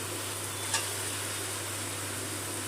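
Masala spices frying in oil in a pan, a steady close sizzle with one brief scrape of stirring.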